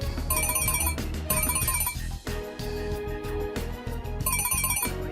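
A phone ringtone plays loudly and close, a bright repeating electronic melody in bursts over a busy musical backing, running without any talk.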